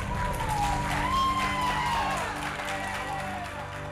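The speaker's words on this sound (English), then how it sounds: "the applause that you heard at the end was from the courtroom shortly before the release of Valentino Dixon" A courtroom crowd breaks into sustained applause and cheering just before the release of prisoner Valentino Dixon, with a dense, steady roar of clapping and a few whoops throughout.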